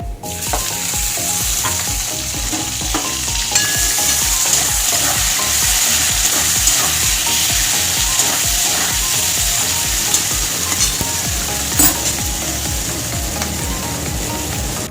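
Chopped onions fry in hot oil in a pan with a loud, continuous close sizzle and a regular rhythm of stirring scrapes throughout, with no talking.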